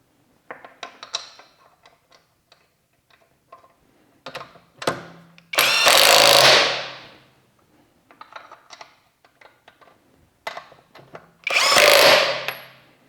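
An Avhrit cordless impact wrench rated 480 foot-pounds and 3,200 RPM, set on high mode, fires two loud, close bursts of rapid hammering, with softer clicks and handling noises between them.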